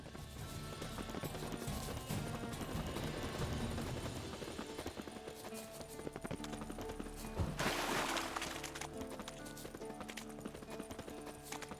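Roach the horse's hooves clip-clop steadily in The Witcher 3 during a ride through dense woods, a continuous galloping rhythm under game music and ambient sound.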